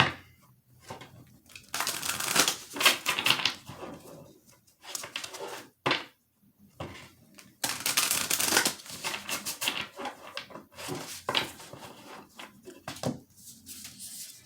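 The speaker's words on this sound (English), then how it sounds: "As I was shuffling this deck" A deck of oracle cards from the Divine Abundance set is shuffled by hand in close, repeated bursts of riffling and sliding, with short pauses between passes and no talking.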